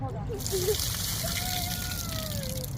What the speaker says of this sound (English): we are wash out the rice now